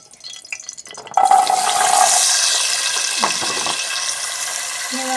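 Half a kilo of small onions drop into hot oil for beef roast, a sudden loud sizzling hiss that starts after a second of faint clatter and stays steady and close, with a stirring scrape partway through.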